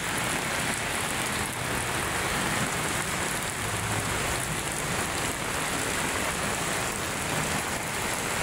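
Steady rain falls on a day by Manila Bay, a dense, even hiss of drops on surfaces that holds unchanged throughout with no voices.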